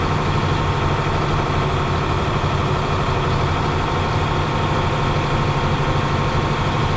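A Class A truck engine idles steadily while building up air pressure, a loud, unbroken low diesel drone with constant vibration and no voices.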